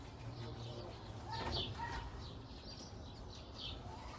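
Soft racing homing pigeon coos murmur faintly beneath a steady background hiss, with a few light chirps.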